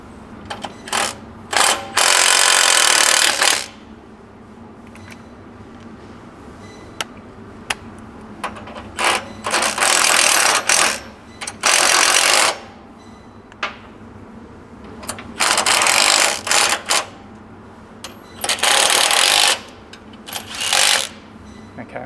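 Suspension bolts on a Toyota Prado 250 being run up during a Panhard corrector install give repeated loud bursts of ratcheting, several spaced a few seconds apart, with quieter clicks and shop noise between them.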